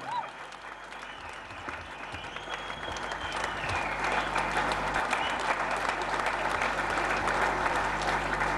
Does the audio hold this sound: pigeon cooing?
no